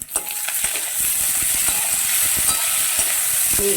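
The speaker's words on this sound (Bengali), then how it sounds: "পোস্তটা আলুর সঙ্গে ভালো মতো ভাজা হয়ে যাবে" Potatoes with poppy seeds and spring onion fry in a pan with a loud, constant hiss broken by quick clicking scrapes of stirring, close up and uninterrupted.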